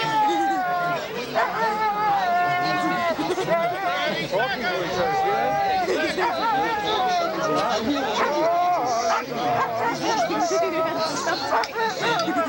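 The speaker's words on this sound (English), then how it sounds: "It's a dog." A dog howls and barks among sled dogs at a cold, windy Can-Am sled dog race in Fort Kent, Maine, under steady crowd chatter, with people talking throughout.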